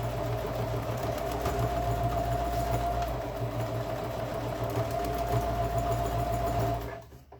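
Sewing machine stitching a shoulder bag strap, a steady humming whir with rapid needle rhythm running continuously, close and clear, stopping abruptly near the end.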